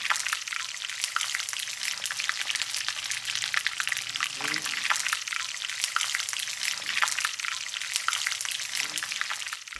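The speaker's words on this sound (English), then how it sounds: "Bây giờ Bảo sẽ giúp quý rang mè này nha." Sesame seeds dry-roasting in a pan in a Hue kitchen give a dense, steady crackle and sizzle, with scraping stir strokes recurring throughout, heard close and continuous.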